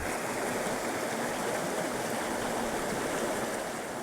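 A steady, full rush of flowing desert creek water, broadband and constant with no pauses, close by and fairly loud.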